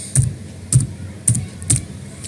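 Four evenly spaced key clicks on a computer keyboard, crisp and close, each a short bright tap with a soft thump beneath, with brief quiet gaps between them and no voices.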